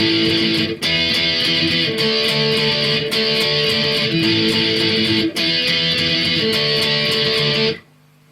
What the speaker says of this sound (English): just 3 different power chord shapes using index finger and our ring finger